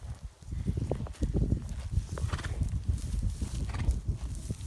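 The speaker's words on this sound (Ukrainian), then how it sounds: "Непогана кобилка." Hooves of a white draft mare clip-clop on the ground in uneven steps, close and fairly loud, with a brief snort and light rustling around them.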